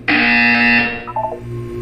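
Loud electronic buzzer from the Portal 2 video game, a steady harmonic tone lasting most of a second before cutting off into a short fading tail, with no talk over it.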